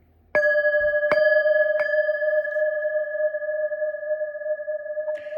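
Three metal singing bowls are struck one after another, each adding a clear sustained ring that overlaps into a long shimmering hum, with faint beating tones.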